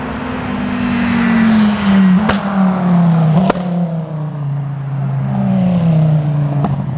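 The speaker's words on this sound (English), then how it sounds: "I'll shut up now so you can hear the cars in full and uninterrupted" Dodge Viper race cars at a track day event, loud engines droning continuously with falling pitch as they pass and shift, with sharp gear-change cracks and no talk.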